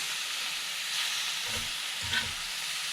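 Steak sizzles in a pan over a homemade penny can stove, a steady bright hiss with two brief louder crackling flares, close up and with no talking.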